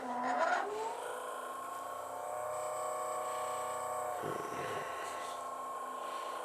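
An ROV thruster motor running in a test tank on a 4S battery pack, giving a steady electric whine with a harmonic tone that shifts as the power is raised, close and continuous.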